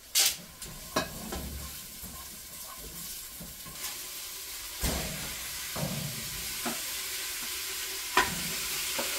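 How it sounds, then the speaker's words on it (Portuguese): Food sizzles steadily while being sautéed in a pan in a home kitchen, with a constant frying hiss and occasional clinks and scrapes of stirring. "Deixar dar uma boa refogada para depois colocar a água e cozinhar bastante."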